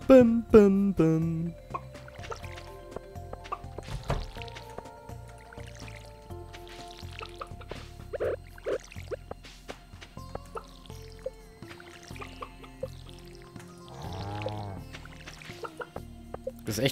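Stardew Valley crops being watered in the farming video game, with squishy dripping and splashing effects repeated in short bursts among other game sounds, ending in a louder run of splashes.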